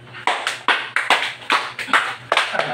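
Several people clap at a black belt award ceremony, about ten sharp, close claps in an irregular rhythm, loud and alone without talk.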